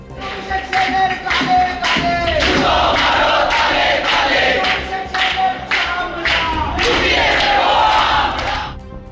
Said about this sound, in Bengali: স্লোগান দিতে শুরু করেন প্রতিবাদী জুনিয়র ডাক্তাররা